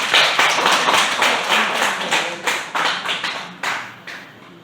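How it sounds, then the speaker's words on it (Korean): A church congregation claps together in a quick, lively burst of hand claps that is loud at first, then grows more ragged and dies away toward the end. "우리 주님께 감사합니다 하고 박수 한번 칩시다"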